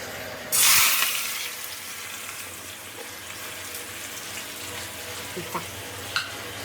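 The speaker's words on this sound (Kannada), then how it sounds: "ಈಗ ಸ್ವಲ್ಪ ಎಣ್ಣೆ ಒಳಗೆ ಉಳ್ಳಾಗಡ್ಡಿನ ಡೀಪ್ ಫ್ರೈ ಮಾಡ್ಕೊಬೇಕು" Chopped onions go into hot oil for deep frying, a sudden loud hiss at the start easing into a steady bubbling sizzle with a few faint clinks and scrapes, close by.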